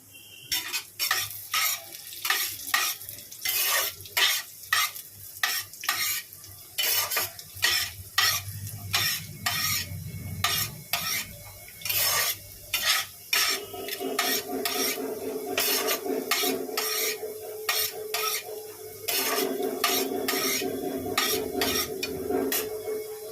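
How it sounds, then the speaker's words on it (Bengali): Nuts frying in oil with ghee added, stirred in a pan with repeated rhythmic scraping strokes over a continuous sizzle, close and fairly loud, no speech. "দেখো বাদামটা ভেজে তুলে নিয়ে আমি সেই তেলের মধ্যে একটু ঘি মেশালাম"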